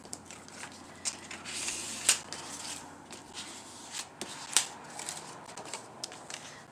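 A cardstock file folder is being folded by hand for a fall-themed altered craft project, giving soft papery rustles with a few crisp creases and snaps, close and fairly quiet.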